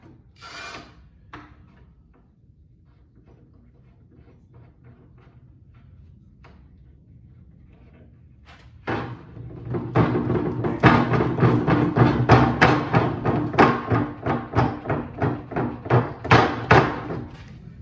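Bar clamps are tightened on a wooden countertop: after a quiet stretch with a few small knocks, a steady run of loud, rhythmic ratcheting clicks and wooden creaks follows up close.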